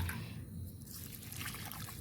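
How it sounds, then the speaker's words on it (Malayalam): Water trickles and splashes softly in a steady stream onto potted plant soil, close and quiet, with no talking. "ഞാൻ വെള്ളം ഒഴിച്ച് കൊടുക്കുവാണേ"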